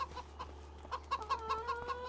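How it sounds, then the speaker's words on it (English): Chickens in a coop on a farm in Farming Simulator 25, on a Polish map, giving a series of short, fairly faint clucks and chirps over a steady low hum, with no voices. "you got a chicken coop here, so you have 10 chickens to start with, 20 in total"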